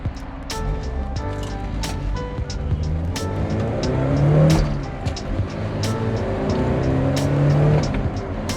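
A 1986 Porsche 944 driving in busy traffic: a steady engine drone that rises and falls with speed, close and loud, with a run of sharp clicks repeating through it and no talking.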